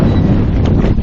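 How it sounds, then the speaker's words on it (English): A strong wind gust of over 20 knots, heard from a paddle board on open water after a tropical storm, roars steadily and loudly across the microphone with no let-up. "Yeah, like that gust right there. It's a 20 plus knot gust."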